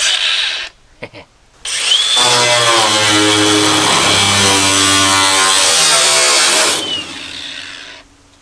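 A cut-off wheel grinds into the metal of an abandoned combine to cut a window, revving up loud and close into a sustained high whine with a rising pitch at the start and end.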